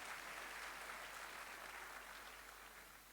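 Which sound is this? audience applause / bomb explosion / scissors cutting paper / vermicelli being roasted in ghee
audience applause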